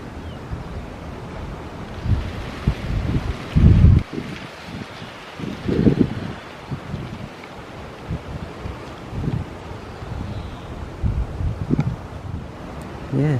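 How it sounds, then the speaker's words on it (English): Wind gusts buffet the microphone outdoors at the Creake Abbey ruins in Norfolk, a steady rumbling roar with sharper blasts every few seconds. "Still a little bit windy."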